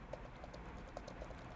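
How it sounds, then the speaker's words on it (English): Keys on a computer keyboard are tapped in a quick, irregular patter of faint, close clicks, with no talking over them. "I'm going to click into the transcription box and start typing my transcription."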